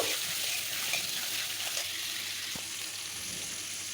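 Fish and potatoes frying in a pan, a steady bright sizzle with a few small pops and stirring clinks, no talking.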